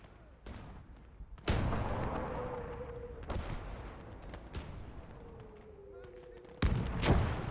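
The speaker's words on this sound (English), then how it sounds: "That should be German support gun." German support gun firing in the World War II video game Gates of Hell during a multiplayer battle, with several loud booming shots over a steady rumbling battlefield backdrop and a voice talking faintly underneath.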